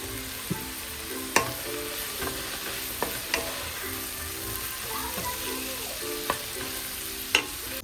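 A pot of thukpa soup with meat bubbles on the stove in a steady, moderately close seething hiss, broken by occasional sharp pops and clicks, with no voices.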